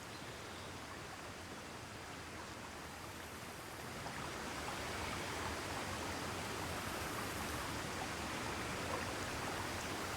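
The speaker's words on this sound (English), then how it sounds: "The waterfall falling." A waterfall in the Flooded Forest of Monster Hunter Rise roars as a dense, continuous rushing wash that grows slightly louder partway through, with no other sounds.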